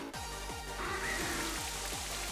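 The Rain Dance move from Pokémon Scarlet and Violet plays as a hissing rain effect with a brief rising tone, layered over steady, rhythmic battle music.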